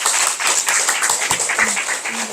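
Audience applause after a lecture on US military ambitions in space, with brisk overlapping clapping, steady and fairly loud throughout.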